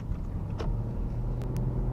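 Inside a 2015 Dodge Journey SXT AWD on the move with the windows down, a constant heavy low-frequency road and engine rumble fills the cabin, with a couple of brief faint clicks.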